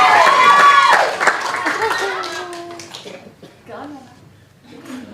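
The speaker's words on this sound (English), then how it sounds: "Let's give a round of applause." Guests clap together at a 21st birthday celebration, a brief burst of close hand claps with children's and adults' voices chattering over and after it.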